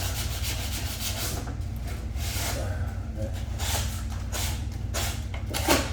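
Repeated rasping strokes of sandpaper quickly scuffing wood trim, a rhythmic back-and-forth rubbing, close up, over a low steady hum.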